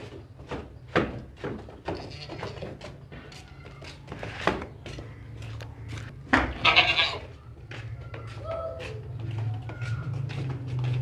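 A healthy, tall sacrificial billy goat bleats repeatedly at a livestock market, calls coming in irregular bursts over low rumbling background noise and occasional thumps.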